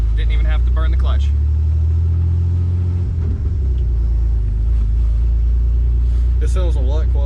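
1988 Chevy S10 5-speed pickup engine running with an exhaust leak, a loud steady low rumble heard from inside the cab while people talk over it.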